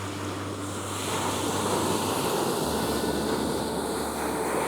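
Arabian Sea waves washing onto a quiet evening beach near fishing boats, a dense, continuous roar of surf mixed with wind buffeting the microphone, loud and close, with no voices.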